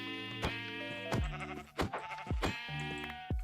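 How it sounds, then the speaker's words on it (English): Sheep in the Minecraft video game bleat repeatedly in a bright, buzzy, synthetic tone, with several short cries spaced across the moment and no talk over them. "I'm just gonna beat up some sheep with a boat."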